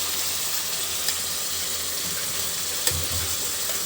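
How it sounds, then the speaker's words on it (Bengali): Fish pieces dropped into a pan of sizzling, well-cooked spiced onion masala, giving a steady close frying hiss with a few brief crackles and stirring scrapes. "এখন দিয়ে দিচ্ছি এর ভিতরে মাছগুলো।"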